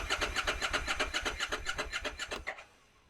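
Repossessed Harley-Davidson motorcycle engine cranking without firing, a rapid rhythmic chugging of about twenty strokes over two and a half seconds, loud and close, then cutting off to near quiet.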